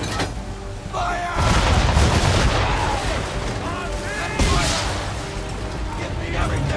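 Ship cannons boom in a naval battle in Assassin's Creed III, with heavy blasts and rumbling volleys over wind and creaking, while crew members shout orders throughout.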